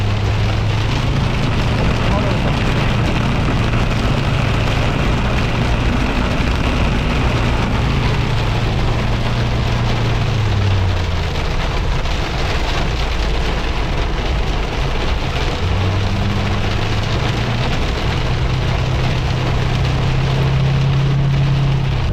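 Heavy rain or hail pounding a car while it drives through a storm, a loud dense roar that continues without a break, with engine and road rumble underneath.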